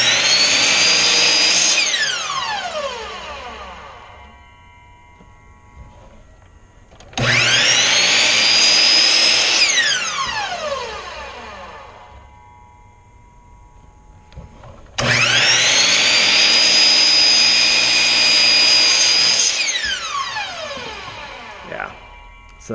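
A miter saw cutting wood for a herringbone box: three loud cuts, each with the motor spinning up, a whining cut, and the blade slowly winding down.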